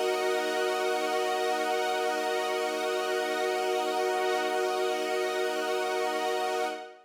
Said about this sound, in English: I've used a Juno 106 pattern here called Moving Strings